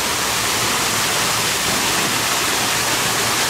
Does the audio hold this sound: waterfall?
yes